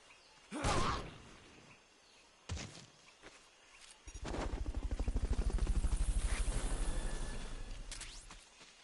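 A helicopter rotor in a video game thumps into a steady rhythmic whir that swells and then fades, following a couple of brief swooshes, with no one speaking.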